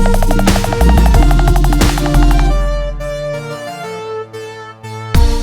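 Layered electronic synths from a remix play a bright melody that swells, then thins into sustained tones building toward a drop, with a sudden loud burst at the very end.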